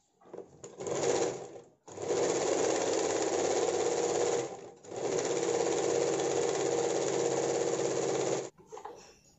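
A sewing machine runs in long continuous bursts while stitching a sleeveless blouse, loud and close, with a short run first and then two sustained stretches separated by brief pauses.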